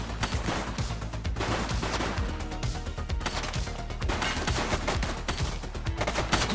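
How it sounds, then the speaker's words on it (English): Gunfire in a police video game, a continuous clatter of rapid shots and impacts at a steady, fairly loud level, close and busy throughout with no talking. "He's shooting!"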